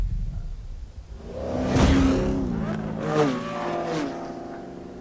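A Dodge Charger engine in Need for Speed Payback revs up and roars past in bursts during a drag race, rising and falling in pitch, loud and close, with a faint low rumble before it.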